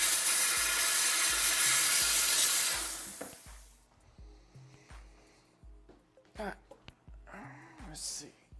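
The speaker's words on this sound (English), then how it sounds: "I'm going to go and steam this real quick and get the wax off." A steamer blasting hot steam onto a dental retainer to strip off wax, a loud broad hiss for about three seconds that cuts off, followed by quieter clatter and faint noises.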